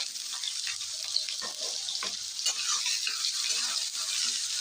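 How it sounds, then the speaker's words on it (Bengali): Chopped medium onion fries in a pan, a bright steady sizzle punctuated by repeated scraping strokes of a spatula, close and moderately loud. "পেঁয়াজটা লাল করে ভেজে নেব"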